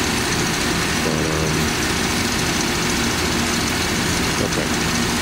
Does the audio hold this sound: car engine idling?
yes